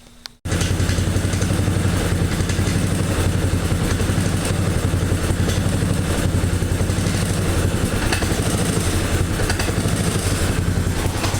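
A motorcycle engine fitted with a homemade muffler idles steadily and loudly at close range, with a rapid even throb that holds for about eleven seconds after a brief quiet start.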